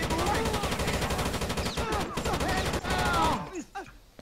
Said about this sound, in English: Well, it's called light machine gun.